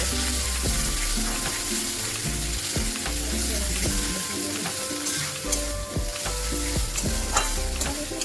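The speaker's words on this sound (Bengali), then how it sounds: "এবার ভালোভাবে ভেজে নেব" Mashed beans for shim bhorta frying and being stirred in oil in a pan, with a steady close sizzle and repeated scraping strokes from the spatula throughout.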